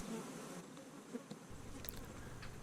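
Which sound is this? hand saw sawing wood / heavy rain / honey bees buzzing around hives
honey bees buzzing around hives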